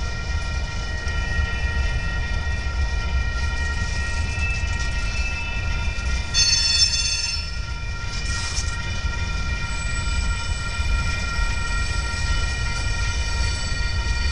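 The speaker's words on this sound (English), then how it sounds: "Here goes the train. It comes right over here." A Union Pacific freight train passes close by with a steady heavy rumble and rolling rail noise, a brief horn-like tone cutting in midway, continuous and loud throughout with no voices.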